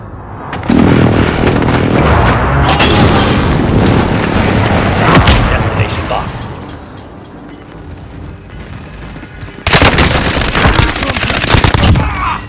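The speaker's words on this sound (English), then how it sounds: "Be advised, friendly precision airstrike inbound." Heavy explosions from a precision airstrike in Call of Duty Warzone, loud and continuous, with rapid overlapping booms and gunfire-like bursts, a brief lull, then a second intense barrage near the end.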